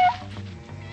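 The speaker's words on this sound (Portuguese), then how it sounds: "olha esse bicho miando completamente" A hungry cat in a Woody Woodpecker cartoon lets out a loud, drawn-out meow that opens sharply and fades over about a second, with nothing else around it.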